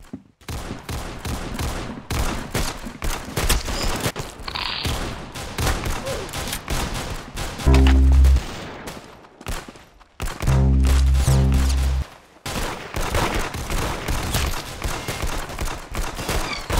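Rapid bursts of gunfire from the Roblox Arsenal video game, sharp repeated shots in clusters with a couple of heavy booming blasts, loud and close.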